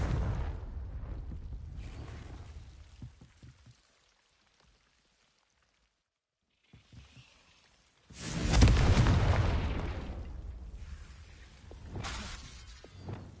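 A Confringo blasting spell explodes in the Hogwarts Legacy video game, a loud burst with a shattering crash that swells and rumbles before tailing off, with earlier crackling effects and a quiet gap preceding it.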